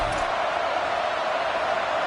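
A football stadium crowd roars steadily, a broad sustained wash of massed voices with no breaks, loud and continuous throughout.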